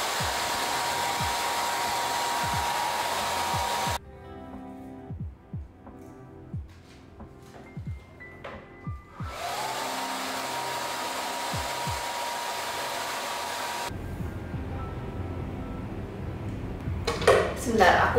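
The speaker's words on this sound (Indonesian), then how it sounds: "So here's the result setelah di hair dryer, setelah di blow" A hair dryer blows steadily while hair is being blow-dried, a loud, continuous rushing roar that cuts off and restarts several times, with handling knocks and brief pauses between bursts.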